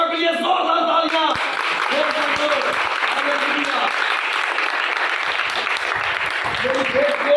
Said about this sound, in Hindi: यहोवा के परस्तारों के लिए जोरदार तालियां।